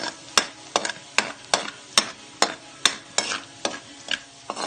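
Garlic sautéing in a pan for sisig, a steady sizzle broken by about a dozen evenly spaced scraping stirs, close and clear with no talk.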